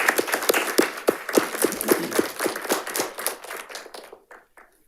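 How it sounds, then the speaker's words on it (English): Applause from an audience at a school district board meeting, a steady burst of clapping from a modest crowd that thins out and fades toward the end, with no talk over it. "So let's give her a round of applause."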